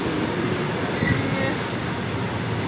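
A passing train gives a steady, loud broadband rumble of rolling wheels and carriage noise that holds evenly for under three seconds without letting up.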